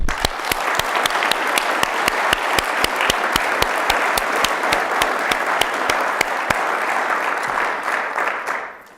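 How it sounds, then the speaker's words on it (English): Sustained audience applause at a city awards ceremony, a steady dense clapping from a large crowd that holds for several seconds and then tapers off at the end. "please join me in giving a round of applause and thanking all of our nominees and"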